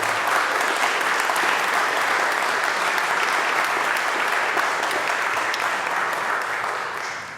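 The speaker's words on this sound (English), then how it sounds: "Let us give our speaker another round of applause." Sustained audience applause for a speaker at a live-streamed event, a thick wash of many hands clapping for over seven seconds, steady then easing off slightly at the end, no voices above it.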